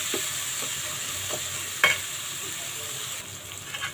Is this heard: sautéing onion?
yes